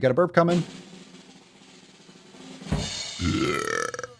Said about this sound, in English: Oh, we got a burp coming.